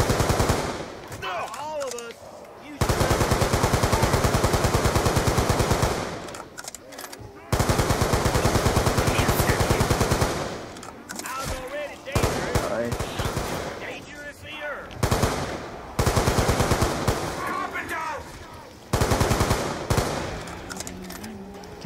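Gunfire in Call of Duty Zombies on the Buried map: loud bursts of rapid automatic fire spaced apart, several long sustained volleys separated by short pauses, with players' voices talking between and under the shooting.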